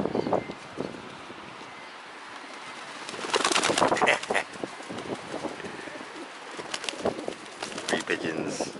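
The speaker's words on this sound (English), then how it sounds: "Got some more pigeons over there coming in." Pigeons coo at close range on the Isle of Wight, joined by bursts of wing flapping as several birds fly in and squabble, with a light breeze in the background.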